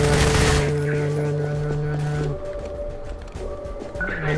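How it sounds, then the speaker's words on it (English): Gunfire in a Half-Life 2 co-op game, a dense burst of rapid shots mixed with game sounds and a steady hum, loud at first and thinning out after a couple of seconds. "I'm shooting."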